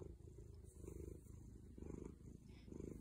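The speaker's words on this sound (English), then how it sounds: "What a good purr and such a cute kitty." A cat purring steadily up close, a low rumbling vibration that swells in rhythmic waves with each breath, no talking.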